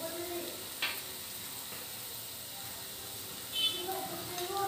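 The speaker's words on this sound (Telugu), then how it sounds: "ఒక్కసారి ఫ్రై చేసుకోవాలి." Egg 65 pieces frying in oil in a pan with pepper powder, a quiet steady sizzle and hiss with a couple of brief stirring scrapes, faint and close.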